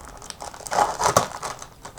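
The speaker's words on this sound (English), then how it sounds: "Sorry about the rustling." Paper rustling and crinkling as a paper Rolodex box is handled and folded, a close, continuous crackle that swells in the middle and then settles into lighter rustles, with no speech.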